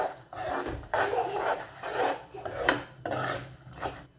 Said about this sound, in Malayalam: നല്ലതായിട്ട് നമുക്ക് പൊടിയുടെ പച്ച മണം മാറുന്നതിന് നമുക്ക് നല്ലതായിട്ട് ഇളക്കിയെടുക്കാം